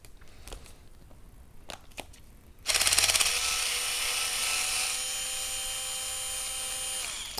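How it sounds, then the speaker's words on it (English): After a few quiet clicks and taps, a small cordless impact gun takes off wheel nuts with one sustained loud rattling whir that lasts several seconds, close up and with no talk. "with my trusty new little gun here, take the wheel nut off of each side."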